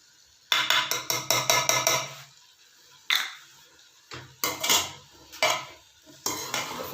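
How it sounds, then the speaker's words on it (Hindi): Mixed vegetables with green chillies being stirred in a pot, bursts of loud spoon scrapes and clanks against the metal separated by short quiet pauses, close and without talk. "अच्छी तरह इसको मिक्स कर देते हैं तो तमाम चीज़ें अच्छी तरह मिक्स हो जाएं"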